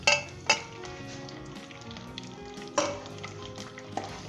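Garlic and ginger frying in vegetable oil in a pot, stirred with a spoon, a soft steady sizzle with a few clinks and scrapes of utensil against metal, close and fairly quiet, no talking.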